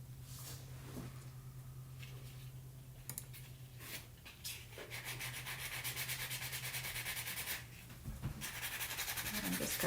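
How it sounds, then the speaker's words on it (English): The back of a metal jewelry piece is rubbed with a medium polishing pad, giving soft, close scratchy strokes in irregular bursts that grow denser and steadier toward the end, against a faint background hum. "we can just clean this back side up with like a medium and our polishing"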